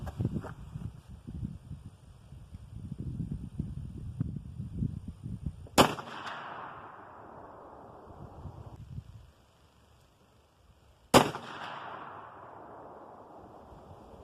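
Two sharp, loud rifle shots from a 45-70 single-shot 1885 rifle at an outdoor shooting range, spaced several seconds apart, each with a broad crack and a decaying echo over rustling and wind noise.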